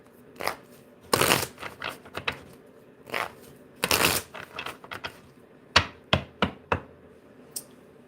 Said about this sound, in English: I would just shuffle a little more